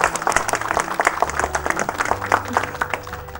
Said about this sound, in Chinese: 大家鼓掌鼓励一下。